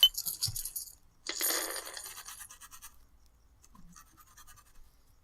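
Small coins clinking and dropping in two quick bursts, a sharp metallic jingle followed by a longer scattering rattle, close and clear, paying one gold coin to a dwarven tavern keeper during a tabletop role-playing game.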